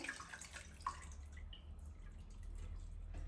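Faint trickling and dripping of lilac-infused water for syrup draining through a strainer, with a few small drips early on and a soft steady wash of draining water, very quiet and close.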